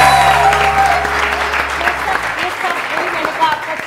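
A studio audience on a TV morning show claps loudly and continuously from start to finish, with a dense patter of hand claps that thins only slightly toward the end.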